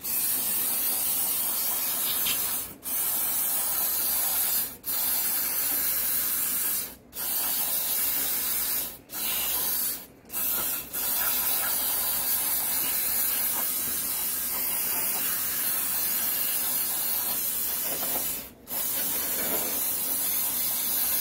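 Cleaner spray hisses steadily onto the CVT drivetrain of a Victoria Nicky 125 scooter, close and continuous, broken by about six brief pauses between bursts.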